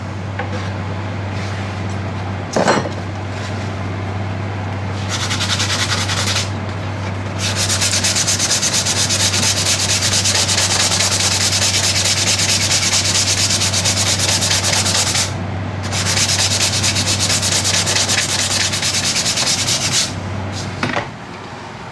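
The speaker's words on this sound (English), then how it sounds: "I'm just going to take my sandpaper, file, very small amount." Bow limb wood being sanded with sandpaper, two long stretches of steady, loud, close rasping strokes separated by a brief pause, with a low hum underneath.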